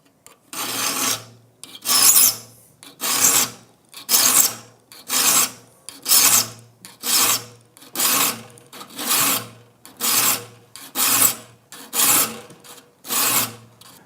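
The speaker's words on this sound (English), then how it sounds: "The key here is to keep the file 90 degrees to the face of the saw" A metal file rasps across the teeth of a rip saw in about a dozen even, evenly spaced strokes, each a loud, bright scraping rush with short pauses between and no voices.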